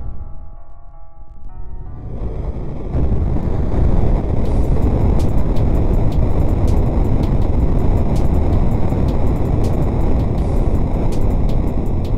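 A quick car with a boxer turbo engine slams into giant spinners in BeamNG.drive, catching fire and shedding its exhaust; after a quiet start comes loud, steady roaring and grinding punctuated by regular sharp impacts.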